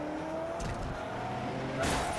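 Car engine in Grand Theft Auto V, a steady low drone at moderate level that swells near the end with a brief scrape or skid-like burst.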